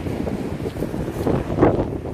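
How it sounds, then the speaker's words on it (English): Strong wind on an Eastbourne beach buffets the microphone in a steady roaring rumble with gusty surges, loud and close, no voices. "Very windy."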